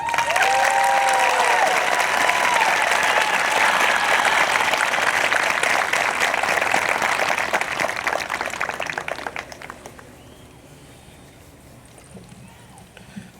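Sustained, full applause for a graduating class of 2020, loud and dense for about nine seconds with faint voices and whistles, then fading quickly to quiet background murmur.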